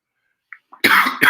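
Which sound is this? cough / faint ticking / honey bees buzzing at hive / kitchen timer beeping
cough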